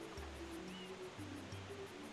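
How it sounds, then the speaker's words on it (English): Steady rushing water from a waterfall in the video game Super Mario Sunshine, a continuous broadband wash with faint tonal game music layered over it throughout. "We have returned our waterfall to normal."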